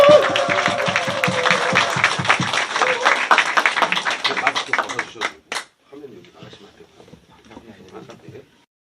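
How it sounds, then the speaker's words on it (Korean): An audience at a lecture event applauds as a speaker is welcomed. The clapping is loud and dense at first, then thins and stops about halfway through, and talking follows quietly. "박수는 아까처럼 엄청 클수록 좋습니다"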